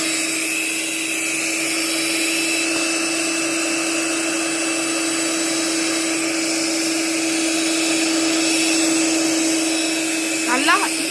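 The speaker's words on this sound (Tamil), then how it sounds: "நல்லா ஹெவி க்ரீமா திக்கா வர வரைக்கும் பீட் பண்ணிக்கோங்க" Electric hand beater whipping heavy cream with sugar, a steady loud motor whine running continuously for the whole stretch with no talk over it.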